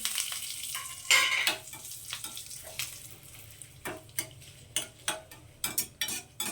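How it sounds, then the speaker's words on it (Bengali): Curry leaves sizzle steadily in oil with a crackling hiss, punctuated by sharp scraping and stirring knocks from a spatula; no voices. "কিছুটা কারি পাতা নিয়েছি তো সেটাকেও ভেজে নেব"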